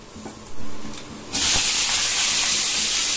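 Potato pieces frying in hot, smoking oil for a vegetable dish, a loud steady sizzle and hiss that jumps up sharply partway through and then holds, with faint kitchen clatter and no talking.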